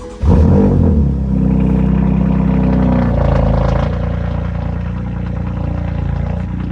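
A BMW M4 cold starts inside a garage, its engine catching with a sharp crank and loud bark, then settling into a steady, heavy, rumbling high idle that stays loud throughout.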